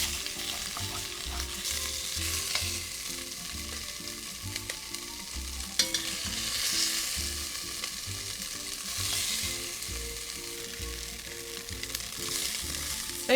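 Beef fillet pieces sear in an iron pan, a loud continuous sizzle with rhythmic scraping and clanking as they are stirred, close and without talk.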